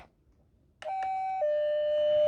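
A toy farm set plays an electronic bell tone, a bright two-note ding-dong. The second note rings on, loud and close, with no voices over it.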